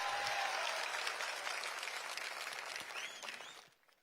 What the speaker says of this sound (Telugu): చేశారు అంటే గట్టిగా చప్పట్లు కూడా చెప్పండి చేశారని.